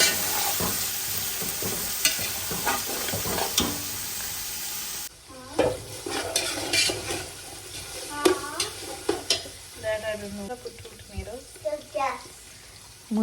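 Chickpeas fry and get stirred in spice masala in a home kitchen pan, a sizzle under repeated spoon scrapes and clinks, with a louder hiss at first that settles into intermittent stirring clatter.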